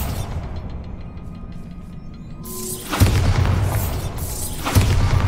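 Bombarda spell explosions in the Hogwarts Legacy video game, two heavy booming blasts about two seconds apart, loud and close over a low ambient rumble.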